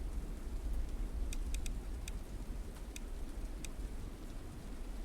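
Steady wind and rain ambience from the video game The Dark Egg, a continuous broadband wash of rain with low rumbling wind and a few faint ticking drips, heard alone without talk.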